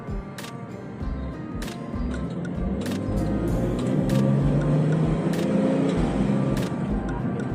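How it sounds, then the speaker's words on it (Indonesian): BMW X6 E71 with the N54 twin-turbo engine and catless downpipes accelerating hard in sport mode, a steady rising engine drone with turbo spool and sharp clicks, loudness climbing through the pull. "ini akselerasi twin turbo itu langsung berasa, dan karena di cat downpipe, suatu turbo spooling itu berasa banget"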